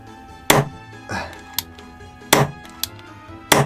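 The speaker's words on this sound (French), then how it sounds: "Ou sinon, bah, vous tirez en double action." Sharp mechanical clacks from an ICS BLE-PM02 Makarov airsoft pistol fired in double action, three loud snapping shots spaced about a second apart with faint clicks between them, close up and without talk.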